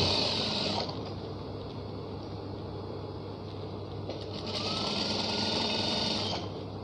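A sewing machine stitches fabric in steady continuous runs, with a louder, faster burst at the start and another near the end. The sound is close and alone, with no talking.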